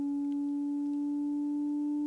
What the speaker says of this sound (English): I was trying to find some sonic wave sounds.